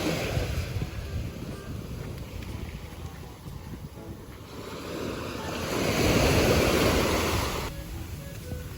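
Sea waves wash steadily onto a beach at Sabangan, a continuous rushing surf that swells louder midway, with wind buffeting the microphone during a shoreline walk.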